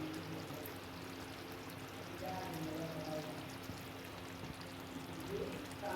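Lemon juice poured into a pan of chicken curry, a faint, steady trickle over a low background hum, with no talking.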